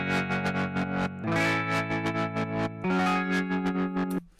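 Synth tones run through the Cableguys DriveShaper distortion plugin, a loud, sustained chord sequence with a gritty, driven edge and layered harmonics, shifting chords twice before cutting off.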